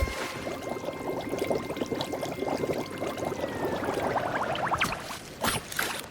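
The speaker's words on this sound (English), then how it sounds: "as you continue to shoot it, it has bubbling, watery sound effect" Jeff's primary fire in Marvel Rivals lets out a bubbling, watery gurgle, a dense stream of small liquid pops and splashes that grows busier, then breaks into a few sharp bursts near the end.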